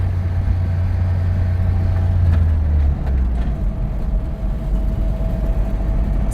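A 1970s-80s Land Rover drives along with a steady low engine drone and road rumble filling the cab, close and continuous with no talk.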